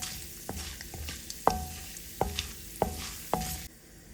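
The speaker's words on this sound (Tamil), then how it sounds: "கடலைப்பருப்பு சேர்த்ததுக்கு அப்புறம் இந்த கடலைப்பருப்பு கொஞ்சம் நல்லா பொரியட்டும்." Chana dal fries in hot oil with mustard seeds, a soft sizzle punctuated by about six sharp spoon taps and stirring scrapes against the pan, close and fairly quiet.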